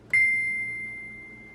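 A single bell note is struck on a Lowrey organ's bells voice and held, the bright pure tone sustaining and slowly fading for over a second in an otherwise quiet room.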